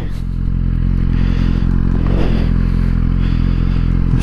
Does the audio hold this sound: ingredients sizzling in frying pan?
no